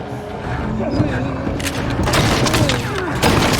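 A hunter firing a gun in Little Nightmares II, a cluster of loud booming shots in quick succession after a brief lull, with an excited voice talking over the gunfire.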